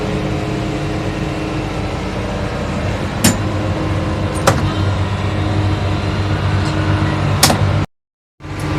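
A tractor mowing hay in a field, a loud steady engine drone with a few sharp clicks and knocks before a sudden cutoff near the end, no talking.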